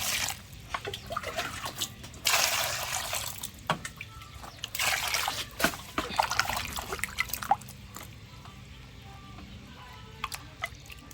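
Bamboo shoots are washed under running water, with splashing bursts and trickling, dripping water that rises and falls in loud gushes between quieter drips, close by and with no talking.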